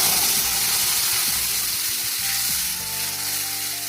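Bay leaf, cumin, onion, ginger, garlic and tomato paste sizzle loudly in hot oil in a home kitchen, a close continuous frying hiss with stirring scrapes and no talk.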